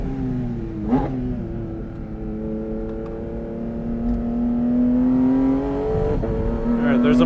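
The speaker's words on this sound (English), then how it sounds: "Car's a little loud. I think we're gonna get black flag for sound." A loud, modified Porsche GT4 RS race car engine drones and revs on a track, its pitch rising and falling with shifts while the drone holds steady, heard from inside the car.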